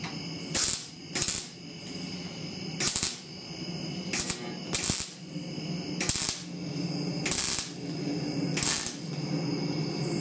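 Sheet metal is welded in short repeated bursts, each a crackling buzz lasting a fraction of a second, spaced about a second apart with a low hum between them.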